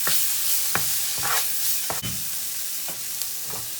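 Paneer curry with spices is stirred in a hot pan, the spoon scraping in repeated strokes over a continuous loud sizzle, no voices.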